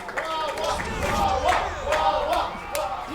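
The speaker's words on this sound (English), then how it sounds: "some wah-wah chants in the chat, well, in the crowd, the live crowd" A live tournament crowd chants in rhythmic, rising-and-falling waves of voices, several swells repeating over a few seconds in an echoing hall.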